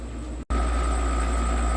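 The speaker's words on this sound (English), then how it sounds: "You have to excuse the noise. I have 3 tumblers going." Three rock tumblers, including a double-barrel model, run together. They make a constant, close droning hum with steady tonal whine, cut by one very brief dropout near the start.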